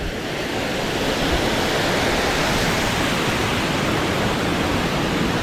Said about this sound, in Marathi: इथे सुद्धा धबधब्याची आनंद घेऊ शकतो आपण